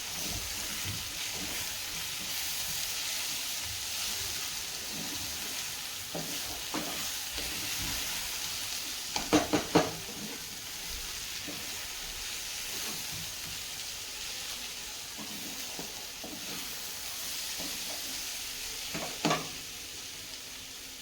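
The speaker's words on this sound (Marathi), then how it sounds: "त्यामध्ये आपल्याला थोडासा शेंगदाण्याचा कुटा इथे घालून घ्यायचा आहे आणि ते मिक्स करून घ्यायचं आहे" Crushed peanuts stirred into spinach bhaji frying in a pan, a constant soft sizzle and hiss with occasional scraping and clinks of a spoon mixing, a couple of louder knocks near the middle and end.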